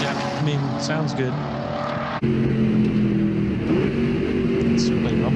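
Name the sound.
pickup truck engine rumbling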